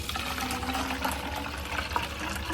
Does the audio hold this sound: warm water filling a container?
yes